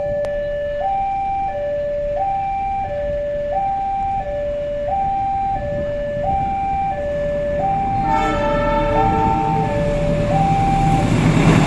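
An Argo Dwi Pangga passenger train passes the Pegambiran level crossing in Cirebon: a steady two-tone warning signal repeats for several seconds, then a louder, denser rush of train noise and layered tones builds near the end, with no talking.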